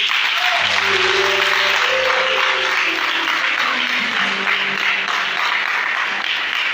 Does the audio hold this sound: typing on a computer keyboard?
no